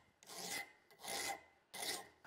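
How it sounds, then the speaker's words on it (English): Steel woodworking scraper blade edges dressed with a hand file after hacksaw cutting: three long, close rasping strokes, each a steady broadband scrape with short pauses between, no voices. "I'm gonna use a file to just dress up and clean up the edges on there from the hacksaw."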